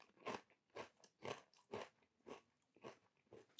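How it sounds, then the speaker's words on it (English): Plain Spudos kettle crisps crunch in the mouth, about eight sharp crackling bites and chews at a steady rhythm, close and fairly quiet, with no talking. "Nice crunch."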